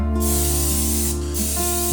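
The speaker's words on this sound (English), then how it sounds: "Flip them over, spray the other side, and then salt the top with kosher salt." Cooking oil is sprayed onto crostini bread slices, a loud close aerosol hiss in two bursts with a brief pause between them, with no talk.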